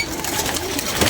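A pigeon gives short, soft cooing sounds, close by, with a brief rustle and no clear talk.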